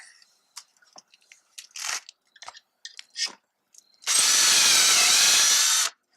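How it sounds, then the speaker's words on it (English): A power drill bores a hole through soft pine for a doweled box, running steadily loud for about two seconds near the end after some small workshop clicks and handling taps. "Let's drill it"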